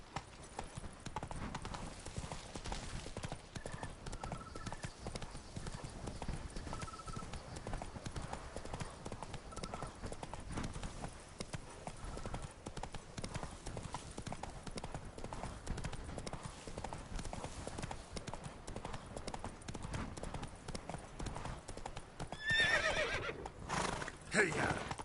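Horse hooves clip-clop in a steady, rapid rhythm throughout a ride in The Witcher 3: Blood and Wine, fairly soft under game ambience, with a brief whinny and rider voice near the end.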